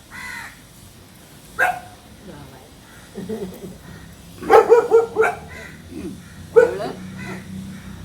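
A dog barks in short, loud bursts, several close together, mixed with people talking nearby.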